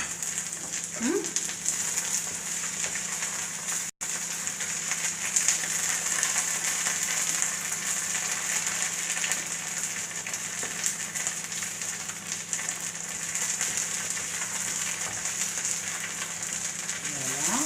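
Spinach frying in oil in a pan for pkaila, a continuous dense crackling sizzle held steady throughout, with a few faint scrapes of stirring and no voices.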